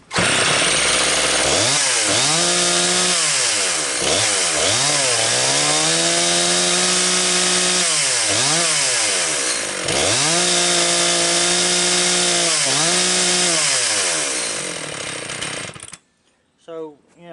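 A repaired chainsaw engine runs loud and close, revving up and down in repeated surges with steady idle stretches between, then cuts off abruptly near the end, leaving a quiet tail.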